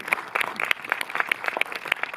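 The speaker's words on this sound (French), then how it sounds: "Vous pouvez l'applaudir à nouveau" A cinema audience in Montreuil applauds a film director after a screening, brisk close claps popping irregularly over a short burst of sustained clapping.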